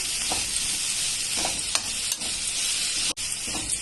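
Boiled cabbage is tossed with chilli powder, masala and salt in a pan with the stove switched off, giving a steady, close hiss with soft stirring scrapes and one sharp knock near the end.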